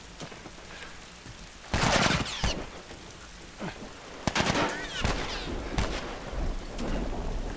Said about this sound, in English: Tess is standing out in the open and firing on the guy.